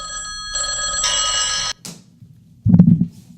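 An old 1930s-style telephone bell rings loudly in two bursts, stopping abruptly, followed by a brief clatter and a louder low thump.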